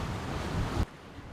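Sea waves and wind rush past a sailboat off the south coast of Turkey in choppy, irregular seas. A loud, broad wash of water and wind drops suddenly to a quieter hiss.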